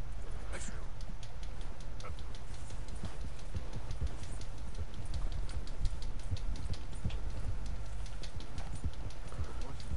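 Horse hooves clip-clop in a steady, regular rhythm as a horse is ridden in the Red Dead Redemption 2 video game, with a low background rumble throughout.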